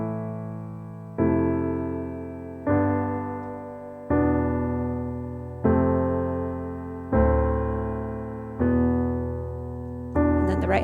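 A piano plays a moody minor song in basic block chords, seven sustained chords struck at an even pace, each ringing and fading before the next, close and clear with no voice over it.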